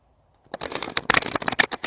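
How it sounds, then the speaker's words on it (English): Tarot deck being shuffled by hand, a dense run of crisp riffling card slaps starting after a brief silence and continuing steadily, close and fairly loud with no talking. "I just feel like I have to shuffle one more time."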